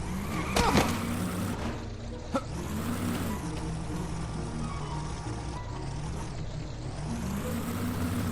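A car drives in the Lego Harry Potter video game, its steady engine hum running continuously with a brief skid-like burst near the start.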